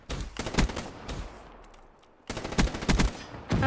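Rapid bursts of automatic gunfire from a weapon in the Black Ops 3 video game, two clusters of close, loud shots separated by a brief quieter gap.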